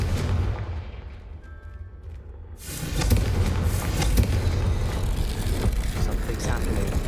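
A Confringo blasting spell explodes in a fantasy video game, a sudden loud broadband blast about midway that swells into a sustained roaring rumble, with a quieter low hum before it and voices talking underneath.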